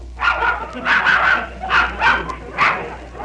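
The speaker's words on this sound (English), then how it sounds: "That he had to bring a dog in here yet." A dog barking in short yips and whimpering indoors, four or five close, loud bursts in quick succession.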